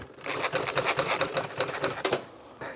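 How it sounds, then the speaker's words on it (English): A sewing machine rattles in a fast, steady stitching rhythm through vinyl upholstery for a 1966 Ford Galaxie car seat, close and continuous for nearly three seconds before slowing at the end. "I'm gonna hold it there and sew it right around it."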